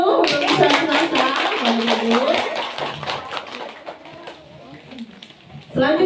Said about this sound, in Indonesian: Kita kasih tepuk tangan dulu untuk bisa Nasa